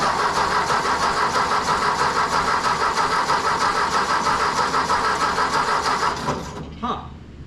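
A Ford Golden Jubilee tractor engine cranking over with starting fluid, a steady rhythmic chugging of the starter that runs for about six seconds, then cuts off without the engine catching.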